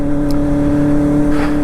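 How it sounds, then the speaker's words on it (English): A Kawasaki Ninja ZX4R inline-four motorcycle engine revving, loud and close with a steady high-pitched whining drone and strong harmonics throughout, no speech. "something about this inline 4, when I rev her up, it just, there's just nothing that can compare"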